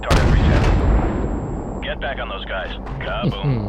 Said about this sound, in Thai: เดี๋ยวลองปืนใหญ่เลย